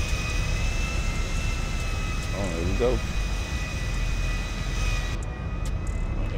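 A private jet's engines whine as a steady, loud roar that runs the whole time under a man's brief remark.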